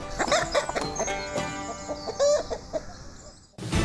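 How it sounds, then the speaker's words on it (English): A chicken, a hen used as a football match predictor, clucks steadily and close by in a busy run of calls before an abrupt cut to another sound. "Kev, the psychic chicken from Kiev, has a former winner in his sights here"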